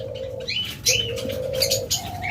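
A pair of pet pigeons coo with soft, repeated low calls. Brief higher chirps and rustles sound over them, close by and fairly quiet, with no speech.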